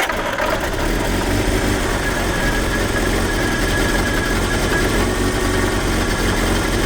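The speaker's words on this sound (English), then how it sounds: "I'm just going to crank her just to get the engine going again, just to get that oil around the engine." A 1978 Triumph Spitfire engine, left sitting for years, turns over with a steady, loud, continuous mechanical rumble and rattle that holds for the whole stretch with no voices.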